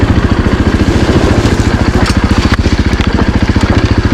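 A 2024 Husqvarna FE450 dirt bike climbing a loose hill, its single-cylinder engine thumping in a fast, even pulse, close and loud, with rough scrabbling noise layered over the steady beat.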